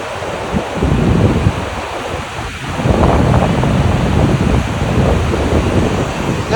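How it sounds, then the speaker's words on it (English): Atlantic Ocean surf breaks on the shore at Cape Canaveral, a continuous loud wash of crashing waves with wind buffeting the microphone and no voices. "That is the actual Atlantic Ocean."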